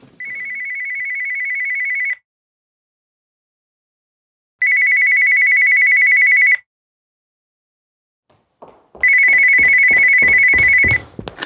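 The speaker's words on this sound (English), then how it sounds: "Answer the goddamn phone" A telephone rings three times in loud electronic bursts with pauses between them, and a clatter of handling noise comes in near the end.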